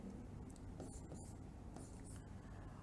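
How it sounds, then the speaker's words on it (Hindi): A marker or chalk moves across a board in soft, faint scratchy strokes. A few short taps and squeaks sit over a low room hum. "तो पहले तो मैं इसको थोड़ा सा लिख देता हूँ"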